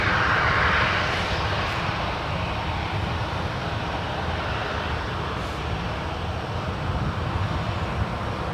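A United Boeing 737-900 jet takes off from runway 01 right at San Francisco International Airport, a steady broadband engine roar that stays loud and even, with a brief swell near the start and no voices.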